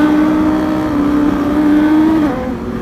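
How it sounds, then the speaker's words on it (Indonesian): Yamaha Aerox scooter with a bored-up engine revving steadily and loudly close by, a sustained engine drone holding pitch for a couple of seconds before easing off slightly. "Geber juga Aerox-nya."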